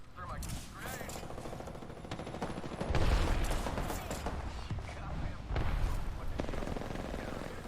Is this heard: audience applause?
no